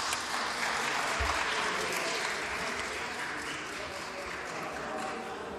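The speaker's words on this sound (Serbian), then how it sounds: "Ne treba da tapšete, nego za." Applause from members of the Serbian parliament assembly after a vote, a steady patter of many hands clapping that carries on evenly and fades slightly toward the end, with no voices over it.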